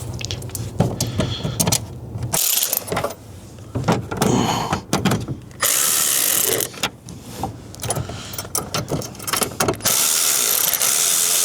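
Ratchet tightening bolts on a 1982–1992 Pontiac Firebird steering column, bursts of rapid clicking pawl mechanisms and metallic clatter with pauses in between, close up.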